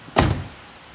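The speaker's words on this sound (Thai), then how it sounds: "เปิดปิดประตูหนึ่งครั้ง" A Toyota Vigo pickup's door closing once with a single close, solid thunk that rings out briefly and fades into a quiet background.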